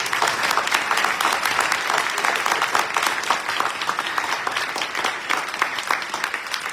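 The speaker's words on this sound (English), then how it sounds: "Let's give them a round of applause." A graduation ceremony audience claps steadily, dense and even applause filling the hall from start to finish without a break.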